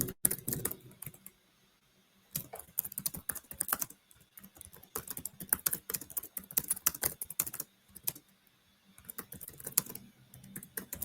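Fast typing on a computer keyboard, a steady patter of key clicks in bursts broken by short pauses, close and clear with no speech.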